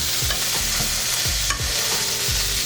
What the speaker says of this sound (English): When they walk by with the sizzling pan.